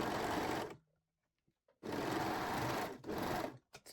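Serger or zigzag sewing machine stitching the side seams of Brazilian panties, two loud close whirring runs separated by a short pause, ending with brief stop-start bursts.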